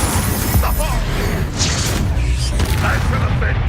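Incendio fire spell cast in Hogwarts Legacy, a loud burst of booming, crackling fire and impact noise that surges and rumbles through the whole stretch, with game voices mixed in.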